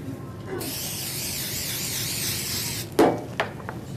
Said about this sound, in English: then we're just going to spray these with the vegetable spray